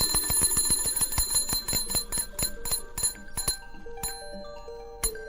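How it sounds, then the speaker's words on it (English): A bell on an early electric telegraph rings in a fast run of bright metallic strikes that slows and thins out over a few seconds, each hit leaving a lingering ring. "and triggers a bell."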